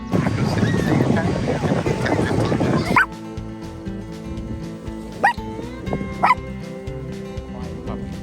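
A puppy barks near a Lake Superior campground at Munising shore: a few sharp yips at intervals over engine or boat rumble, with people talking nearby.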